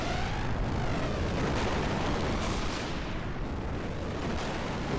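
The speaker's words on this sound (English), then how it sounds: "Deus is still exploding" Explosions during the Deus boss fight in Xenogears, a loud sustained roar of rolling blasts and booms with a few sharper bursts layered on top, continuous and dense throughout.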